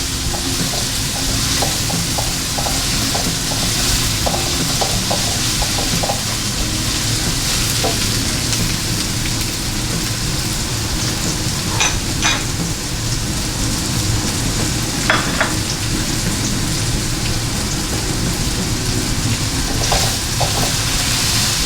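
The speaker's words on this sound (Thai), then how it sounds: "ผมก็จะใส่พริกเหลืองสั บผัดไปเรื่อยๆเลยนะครับ" Squid stir-fries with chopped yellow chili in a hot pan, a loud continuous sizzle close up with scraping stirs and occasional clinks of a utensil throughout, no voices.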